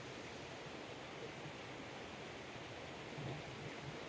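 The McCloud River rushing at a creek crossing, a steady broadband wash of flowing water that holds an even level throughout, fairly close, with no other sounds standing out.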